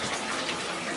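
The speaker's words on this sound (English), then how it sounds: "Running his bath water." Bath water runs steadily from a tap into a bathtub at home, a continuous close hiss and gush with no voices.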